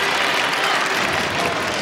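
Crowd at a badminton match breaks into broad, steady applause after a point, a dense wash of clapping sustained throughout without a break.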